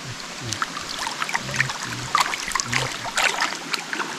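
A stream gurgling and trickling over stones, close and continuous, with scattered bright splashes and bubbling, heard on its own.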